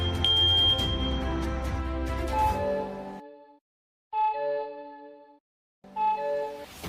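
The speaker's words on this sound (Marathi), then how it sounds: "स्मोक डिटेक्ट होताच लगेच अलार्म वाजतो" A smart WiFi smoke detector set off by incense smoke sounds in loud tonal bursts, with two short pulses separated by silent gaps after a longer opening blast.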